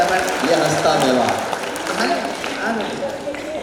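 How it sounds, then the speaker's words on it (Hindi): Applause and crowd noise rise from an audience at a comedic poetry event, clapping mixed with voices and calls, loud at first and easing off slightly. "हाथ ऊपर उठाकर तालियां बजाओ"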